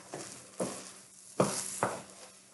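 Mushrooms sautéing in a hot pan while a risotto cooks nearby: a low, steady sizzle broken by four soft stirring scrapes at irregular intervals, close by and fairly quiet, with no voices.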